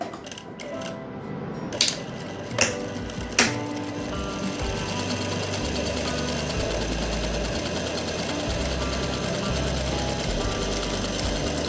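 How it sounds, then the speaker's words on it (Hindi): A sewing machine stitches a cloth strip for a hook patti. A few sharp clicks come first, then a steady, close mechanical whir runs continuously to the end. "तो अब आपने सिलाई लगा देनी है"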